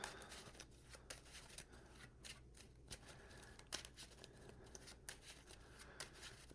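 Cards from a Marvel Champions deck being shuffled at a table, with soft riffling and papery rustle in quick bursts across several seconds, faint and close, with no talking.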